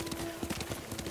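Horse hooves clip-clopping at a steady riding pace in the Ghost of Tsushima video game on PS5, soft rhythmic thuds under a low background hum, with faint voices nearby.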